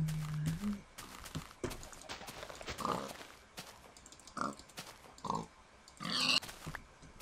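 Pig oinks and grunts from the Minecraft video game come in several short, separate bursts over quiet background sounds, with no talking.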